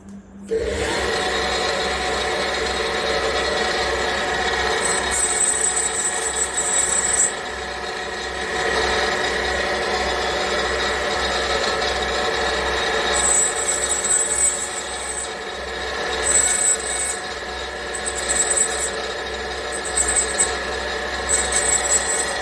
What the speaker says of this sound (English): The excess metal in the margin area and the excess metal in the surface has been trimmed off